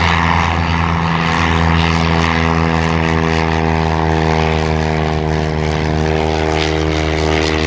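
Steady, loud propeller-engine drone from a Sopwith Pup vintage biplane at an air show, a rich buzzing hum with strong harmonics held at an even pitch throughout.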